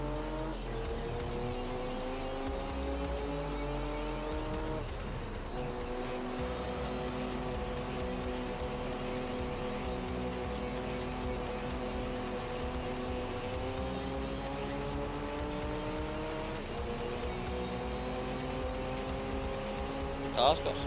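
An LMP prototype race car lapping in Gran Turismo 3, its engine note climbing repeatedly through the gears over a steady low rumble, with faint tire noise, all at low level.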